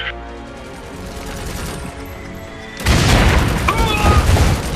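Gunfire in the war game Iron Harvest 1920+, a loud, dense fusillade of rapid shots and booms that breaks out suddenly partway through, following a quieter stretch of battlefield ambience.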